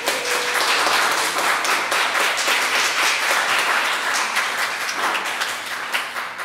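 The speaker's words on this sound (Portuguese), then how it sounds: "Batam palmas, por favor." Sustained audience clapping at the opening of a Mondego Marginal music gathering, a broad, even wash of many hands that holds steady and tapers slightly near the end.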